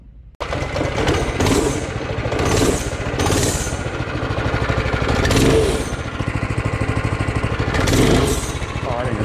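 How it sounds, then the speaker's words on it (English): A vintage track go kart repowered with a Predator 212cc engine starts abruptly and runs loud and close, revving up and down in repeated surges over a rattling, buzzy idle. "we decided to repower one with a modern Predator 212cc engine."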